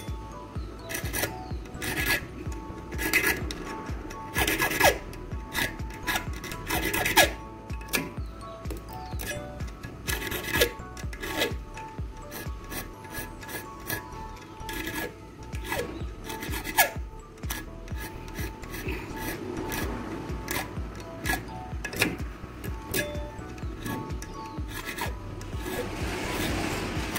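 Metal file rasping a 2004 Hyundai Tucson key blade as its sixth cut is shaped, rapid repeated scraping strokes up close, rhythmic and continuous with brief pauses, no talk.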